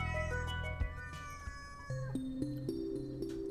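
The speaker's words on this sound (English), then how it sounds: "Even if your cat's meowing angrily at you." An angry cat meows in a run of rising and falling cries, close and loud, with a few harsher yowls near the start and shorter meows toward the end.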